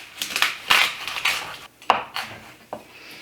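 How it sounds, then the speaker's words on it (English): Sweet potato black bean salad is tossed and stirred in a bowl, with repeated scraping, clattering strokes of a utensil against the bowl in an uneven rhythm, close and fairly loud. "I like to give everything a really good stir"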